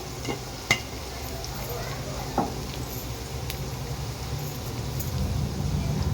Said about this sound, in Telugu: గోల్డెన్ కలర్ వచ్చే వరకు ఫ్రై చేసుకోవాలి